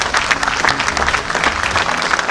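A theatre audience gathered for a new Rangnaad stage play breaks into lively applause, a thick, crackling mass of clapping hands that stays loud and steady across the whole stretch.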